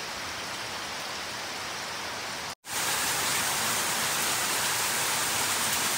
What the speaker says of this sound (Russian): А у нас тут дождь.